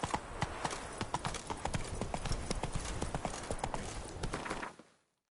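Geralt's horse Roach trotting in The Witcher 3, a steady rapid clip-clop of hooves running close and loud throughout before cutting off abruptly at the end.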